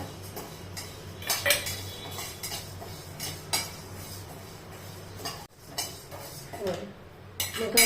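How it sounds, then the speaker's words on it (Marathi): Moong dal dry-roasting in a pan while being stirred produces repeated scraping and rattling strokes with clinks of utensil on metal, irregular and close, over a low background hum, with no speech. "आपण घेतोय मुगाची डाळ सगळ्या डाळी इथून अशा भाजून घ्यायच्या"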